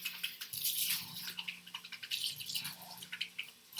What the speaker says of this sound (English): Rinse that out.